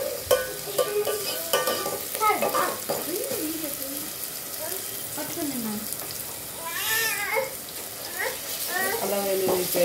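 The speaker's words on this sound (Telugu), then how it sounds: "అయితే అల్లం వెల్లుల్లి పేస్ట్ వేస్తున్నాను ఫ్రెండ్స్." Ginger garlic paste frying in a pan for chicken curry, a soft steady sizzle with stirring scrapes, while a cat meows and a voice cries in bursts over it.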